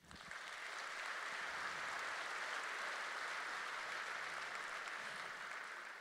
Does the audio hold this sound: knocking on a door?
no